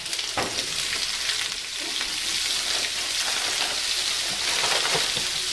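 Garlic frying in a pan over medium heat, a steady close sizzle and crackle running without a break, with a few sharper pops and stirring scrapes.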